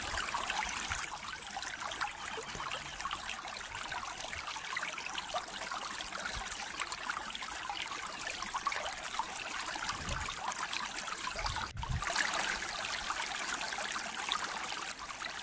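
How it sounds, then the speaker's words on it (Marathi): Fast-flowing water of the Girna river rushes steadily, a continuous broad gurgling roar with a few brief splashes, moderately close and unbroken by talk. "गिरणा नदीमध्ये किती वेगाने आता सध्या देखील पाणी चालू आहे हे बी बघू शकता."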